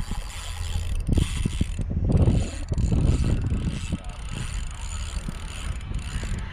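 Fishing reel drag clicks in rapid, uneven bursts while a bonefish is fought on a light drag from a boat in shallow inshore water, set against wind and water noise.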